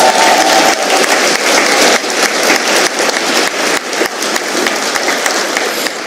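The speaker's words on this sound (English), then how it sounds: "the sound of those claps, that's what I live for." Sustained applause and clapping from a stand-up comedy audience fills the space, dense and loud, with steady crackling hand claps that hold through the whole stretch without fading.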